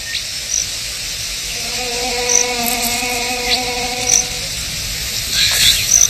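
Male wasps fly and buzz around a tiny orchid, a steady droning hum with wavering pitch as they circle near and far, fairly loud and continuous with no speech.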